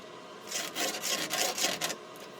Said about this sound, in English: just draw a couple straight lines